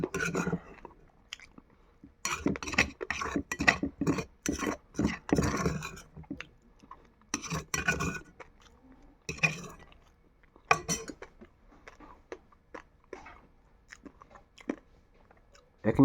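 Close, wet chewing and crunching of Magh Bihu festival food comes in irregular bursts with quiet gaps, and faint clinks of dishes or cutlery sound now and then.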